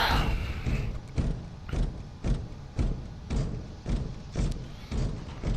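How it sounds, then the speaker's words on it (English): Heavy armored Terminator footsteps in a video game boom in a steady, evenly spaced series of about ten deep thuds, loud and close, with no talk over them. "I do like the booming footstep sounds of your Terminator armor"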